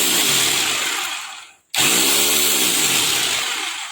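A Mitsushi rotary demolition hammer drill runs in hammer-only mode, a loud, dense rattling buzz close by that cuts out briefly midway and then starts again at full power, with no voices.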